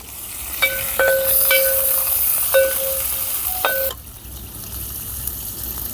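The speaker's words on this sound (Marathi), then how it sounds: "कांदा पूर्ण ब्राऊन करायचा म्हणजे जरा गॅस फास्ट करा" Onions browning in a cooking pot over a high gas flame, a steady close sizzle and hiss under light stirring, with a few clinking tonal taps from utensils early on before the sizzle quietens.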